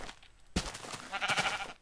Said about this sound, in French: Méchant mouton, pousse-toi.